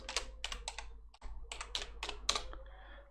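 Someone types on a computer keyboard while renaming a canvas group in Unity, producing quick bursts of close, crisp key clicks that pause briefly in the middle, with no voice.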